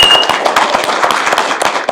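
Crowd clapping for a candidate at a Gwangju joint debate, dense continuous applause with crisp separate hand claps popping through, loud and close throughout.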